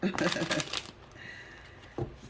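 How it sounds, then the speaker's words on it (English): A deck of tarot cards is riffled and shuffled for a reading, a soft papery flutter at first with a voice talking over it, then a quieter stretch and one more brief shuffle at the end. "let's shuffle first"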